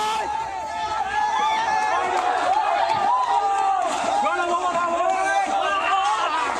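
Dense crowd of protesters storming the Ganabhaban, the prime minister's residence in Dhaka, Bangladesh: steady loud chatter, shouting and cries blending into continuous hubbub with a few rising yells and whoops throughout.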